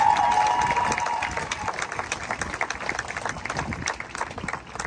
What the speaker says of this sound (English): I want you to give yourselves a big round of applause for showing up.